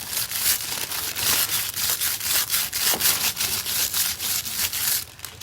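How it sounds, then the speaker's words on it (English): A brush scrubs aluminium foil in quick, repeated rasping strokes, a rhythmic scratchy crinkle about twice per second, close and fairly loud, with no talk. "I've still got to go over and scrub this side. So I'm making sure I have scrubbed the foil on both sides."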